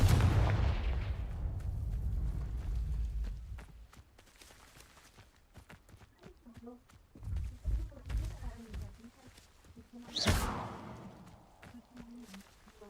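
Confringo blasting spells cast in Hogwarts Legacy, heard as a heavy booming blast at the start and then a sharp explosive burst near the end, with softer in-game impacts and clatter between and no talking.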